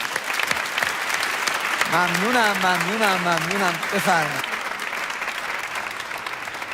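An audience claps at a family gathering, with steady applause throughout while someone speaks and briefly sings over it.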